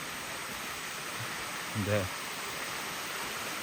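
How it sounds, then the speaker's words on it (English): Steady broadband rush of a waterfall on a hot, humid tropical walk in Penang, constant and moderately distant, with a brief spoken word partway through. "it's a waterfall"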